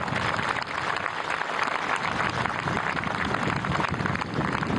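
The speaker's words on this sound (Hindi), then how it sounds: "आपकी तालियां रुकनी नहीं चाहिए" A large outdoor audience at a navy demonstration claps steadily and continuously for marine commandos landing, a dense, even wash of applause with no pauses.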